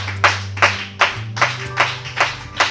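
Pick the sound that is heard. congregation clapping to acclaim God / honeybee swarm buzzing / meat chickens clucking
congregation clapping to acclaim God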